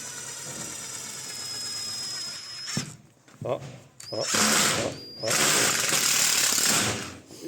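Power screwdriver driving screws into a metal rail fixed to a wall for a Stil M48 partition lining, heard as a steady high whine followed by several loud bursts of driving, close by.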